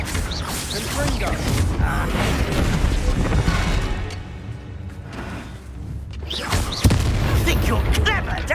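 A Confringo fire spell goes off inside a goblin mine in Hogwarts Legacy, a loud booming, crashing blast with rumbling bursts that ebb midway and then flare up again, mixed with game sound and talk.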